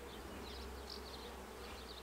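A steady, close drone of many bees buzzing together, with a faint whirring hum that holds evenly throughout.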